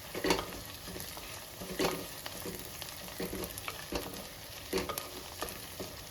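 Shallots and slit green chillies sizzle in hot oil in a pan as a base for a Jalebi fish curry. A spoon stirs and knocks against the pan in repeated bursts over the frying.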